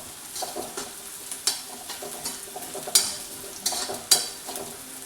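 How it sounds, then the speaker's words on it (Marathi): Peanuts and onions fry with salt in a pan, a steady close sizzle broken by several sharp scraping stirs of a spoon, with no voices. "आता याच्यामध्ये शेंगदाणे पण होतील आणि कांदे पण होतात."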